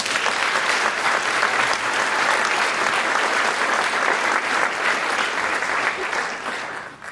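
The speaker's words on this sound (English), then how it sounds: "please feel free to applaud for them as they stand up" An audience at a high school band spring concert claps in dense, sustained applause, heard fairly close and loud without interruption before tapering off at the end.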